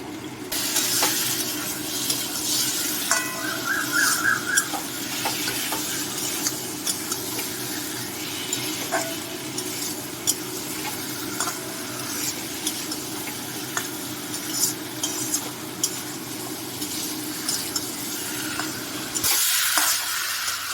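Boiled potatoes frying in spice masala for a prawn and potato curry, a steady close sizzle with ongoing scraping stir strokes and clinks over about twenty seconds, ending in a brief louder burst.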